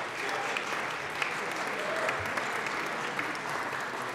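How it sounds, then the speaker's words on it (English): A crowd in a legislative chamber, the Colorado House, claps steadily for visiting students, a dense, sustained round of applause with a few faint voices mixed in. "So let's give them a round of applause,"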